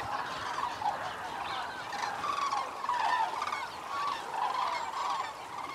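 Cranes at Arjuzanx calling together as a flock, a continuous overlapping chorus of honking, trumpeting cries at moderate distance with no talk.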